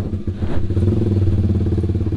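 Honda Sonic 150R motorcycle fitted with a Proliner aftermarket exhaust, revving loudly at close range with a rapid, throbbing, slightly rattly engine note that holds steady after a quick throttle blip.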